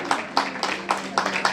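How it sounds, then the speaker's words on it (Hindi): An audience claps in steady unison at a Rajasthani Mahila Sanghatan gathering in Kolkata marking the organisation's 50th anniversary; the brisk, evenly spaced claps are close and fairly loud, with a faint murmur of voices underneath. "तालियां"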